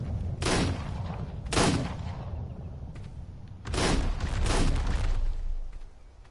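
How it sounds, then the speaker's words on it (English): Gunfire in the video game Ark: several sharp shots, two spaced single blasts followed by a denser pair of bursts, ringing over a low steady background. "He's shooting at me."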